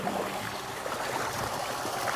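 A small shallow stream flows steadily over its bed, a soft continuous babble and trickle heard close by with no voices.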